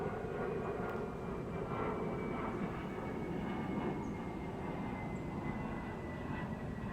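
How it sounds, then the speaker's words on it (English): A fixed-wing airplane passes overhead, a steady, broad engine rumble that holds at an even, moderate level throughout with no voices over it. "And once this plane passes,"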